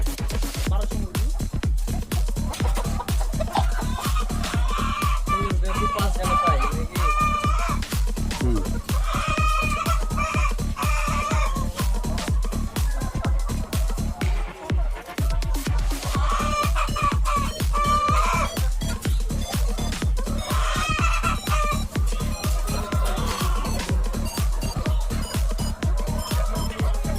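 A flock of about 1,200 hens on a layer poultry farm clucks continuously, with overlapping calls and occasional louder squawks and crowing over a steady low mechanical hum.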